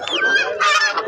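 Fowl at a livestock and bird market in Bheramara, Kushtia let out two loud, close, goose-like honks in quick succession.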